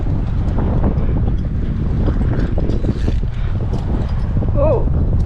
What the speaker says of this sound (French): Génial, le vent se lève.